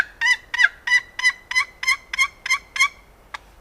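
A handheld turkey call imitates a turkey gobble: about nine quick, evenly spaced, shrill yelping notes close and loud, then one short final note, with no talk.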